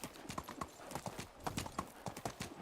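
Horse hooves clip-clop in a steady, brisk rhythm as a rider travels at night in the medieval survival game Medieval Dynasty, with the beats close and continuous throughout.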